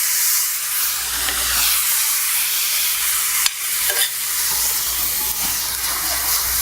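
Vinegar and sugar barbecue sauce in a hot pan, a steady loud sizzling hiss of bubbling and caramelizing with a couple of brief stirring clinks partway through.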